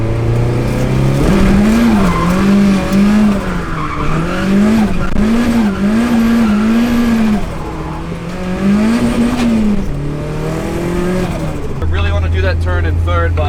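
A Nissan S13 drifts at night in second gear, its tires squealing in long wavering howls over a loud, rising and falling engine drone, with a voice talking beneath the noise.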